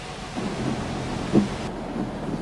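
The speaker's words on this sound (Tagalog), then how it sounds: "Narito ang ulan." Heavy typhoon rain from Typhoon Ruby pours over a coastal barangay near Laguna Lake in Muntinlupa after midnight: a steady, dense hiss of falling water with one brief dull thump midway and no voices.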